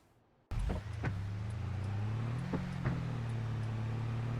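A truck engine in the Farming Simulator 22 farming game starts abruptly, then drones at a steady low hum while driving, with a few faint clicks and knocks over the running engine and no talk.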